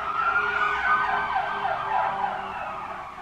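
A passing ambulance siren wails in rising and falling sweeps over faint traffic noise, holding steady and then fading slightly as it moves away.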